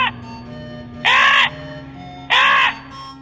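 A crow gives two loud, harsh caws spaced about a second apart, close and clear over a low steady hum.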